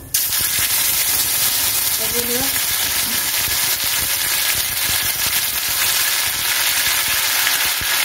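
Green chilli paste frying in hot oil for a Bengali koi fish curry, a loud, dense, continuous sizzle that stays close and steady throughout, with a brief faint tonal sound partway through.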